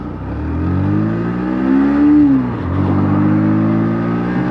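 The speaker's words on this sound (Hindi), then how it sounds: "सबसे पहले हम यहाँ पर चेक करते हैं कि किस गियर में कितनी पावर ये जनरेट करता है और इनिशियल पिकअप कैसा है" A 125 cc commuter motorcycle, a Pulsar NS 125 or TVS Raider 125, revs up close in first gear, its engine note rising steadily to a peak, dropping at the shift, then droning on loudly with no talking.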